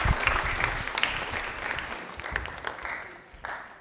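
A studio audience at a televised quiz show breaks into sustained, enthusiastic applause, dense clapping that stays steady and then eases off slightly toward the end, with no talk over it.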